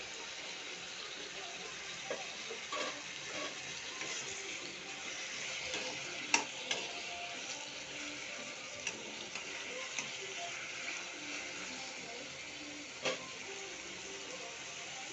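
A spoonful of cumin seeds fries in a pan while bun dosa batter is prepared, making a soft, steady sizzle with sparse faint ticks and pops, fairly quiet throughout.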